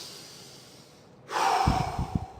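One big, deep breath drawn in sharply near the microphone, a loud airy rush that ends in a few short breathy pulses.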